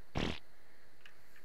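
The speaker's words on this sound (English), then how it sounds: "Burp." A short, loud burp-like burst in an ARK Survival Evolved game, one rough low blast lasting about a quarter second, followed by a couple of faint distant chirps.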